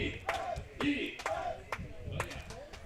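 Crowd at an amateur baseball game in Germany between the München-Haar Disciples and Heidenheim Heideköpfe, voices shouting and cheering in loose bursts with a few sharp claps or knocks, moderately distant and steady for a few seconds.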